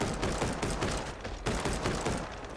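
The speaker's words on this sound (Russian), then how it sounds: "Кто-то меня там стреляет." Rapid gunfire in the mobile dinosaur battle game Full Metal Monsters: dense, overlapping bursts of shots crackle in a steady barrage, loud and sustained throughout.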